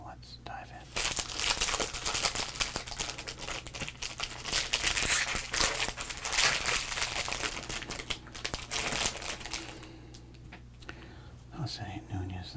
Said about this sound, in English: That'd be the pack and the rip and the crinkle and the rip